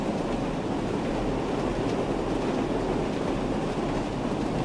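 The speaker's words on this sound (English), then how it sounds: "Might look quite nice with the train coming around the curve there." A long train rolling around a curve in the Train Sim World 5 game, a steady broadband rumble and rush that holds at an even level throughout with no voices.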